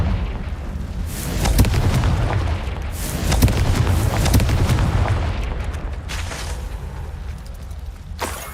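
In Hogwarts Legacy, the Confringo fire spell sets off loud, rumbling explosions with deep booms and bursts amid continuous battle noise, ending on a sharp final blast.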